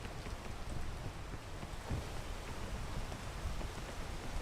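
Steady, dense rain in a video game, a continuous hiss of falling drops with low rumbling texture, even in loudness throughout and without any voices.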